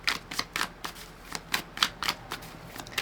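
A deck of oracle cards is shuffled close by in quick, soft riffling bursts that repeat in an uneven rhythm, with no voices.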